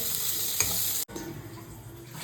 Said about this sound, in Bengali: এখন পেঁয়াজ ভাজা হচ্ছে